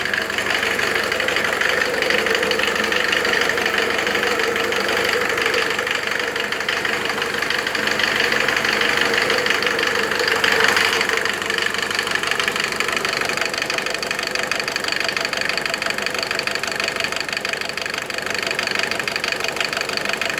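A Mercedes OM601 2.0-litre diesel engine driving an irrigation water pump runs steadily at close range, a rough, knocking idle holding an even rhythm throughout with no voices.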